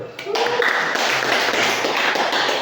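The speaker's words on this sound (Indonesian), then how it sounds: "Berikan aplaus dulu." Students in a classroom give a short round of applause, a dense burst of clapping lasting a couple of seconds at moderate loudness, with some voices mixed in.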